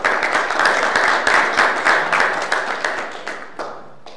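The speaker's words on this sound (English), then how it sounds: "Can you please show your appreciation for this morning's panel?" An audience claps for a morning panel at a sport and criminal justice town hall, loud and close, a dense steady patter of many hands that thins and fades toward the end, with no talk.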